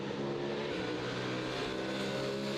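Hein Koopman's BMW Z4 race car roars on the Circuit Zolder track in Supercar Challenge sprint qualifying, a loud, sustained engine drone with no break, heard alone.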